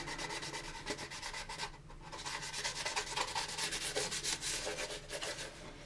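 Sandpaper rubs steadily over the plastic parts of an AMT 1983 USS Enterprise model kit during paint prep. The sanding is close and continuous, in rhythmic back-and-forth strokes with a brief pause near the two-second mark.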